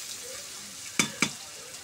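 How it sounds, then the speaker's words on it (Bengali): Black cardamom and spices frying in hot oil, a faint, steady low sizzle with two quick sharp clinks close together near the middle. "কালো এলাচ দিয়ে দিলাম, এবার এগুলো লাল লাল করে ভাজে নেব।"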